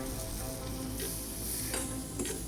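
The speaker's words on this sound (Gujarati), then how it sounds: "ગોળ એડ કરી અને ગોળ ઓગળે ત્યાં સુધી ફરીથી બંનેને મિક્સ કરશું." Chopped jaggery is stirred into roasted sukhdi flour and ghee in a pan, giving a steady close sizzle with soft scraping strokes of the spoon and no voices.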